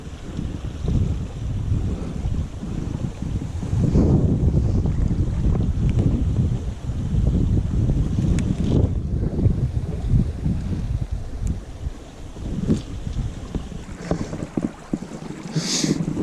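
Strong wind gusting beside a river on Dartmoor, a steady loud roar of buffeting and rushing air across the microphone that rises and falls slightly without a break, with no voices.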